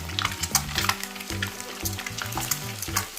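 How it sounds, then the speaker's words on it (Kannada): Eggs frying in a pan for a spicy Kerala egg pepper roast, a steady crackling sizzle with bursts of spattering and a low hum underneath, close and continuous with no talking. "ಫ್ರೈ ಮಾಡ್ತೀನಿ."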